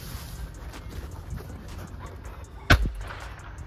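A firecracker petard goes off with a single sharp, loud bang followed by a brief echoing tail, set against a quiet outdoor background.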